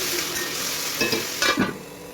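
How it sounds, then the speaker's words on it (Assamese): Manimuni greens fry in a covered pan, a steady close sizzle broken by a few scraping stirs of a spatula, with no talking. "লৰাই লৰাই ঢাকোন মাৰি মাৰি অলপ সময় ভাজিলোঁ"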